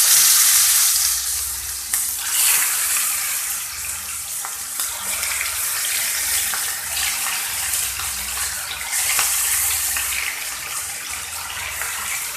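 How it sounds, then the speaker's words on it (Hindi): Chicken frying in a pan with masala, a steady loud sizzle and hiss that runs continuously with no talking. "अब हम दोस्तों चिकन को फ्राई करेंगे अच्छे से"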